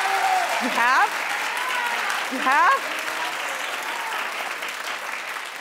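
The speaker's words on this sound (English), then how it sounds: "clap in the audience if you've ever seen their tape" Studio audience applause on a television talk show, a broad steady wash of clapping running throughout, with a host's voice briefly speaking over it twice.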